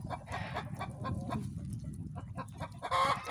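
Alarmed roosters and hens cluck and squawk together in a farmyard poultry run, a busy, agitated chorus of overlapping calls that stays close and fairly loud throughout, with a sharper cry near the end.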